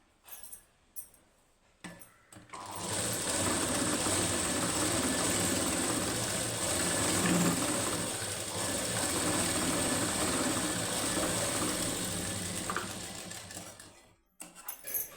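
Sewing machine running steadily for about eleven seconds as it stitches a hemming strip onto a plain high-neck blouse, a close continuous mechanical whir framed by brief handling clicks before and after.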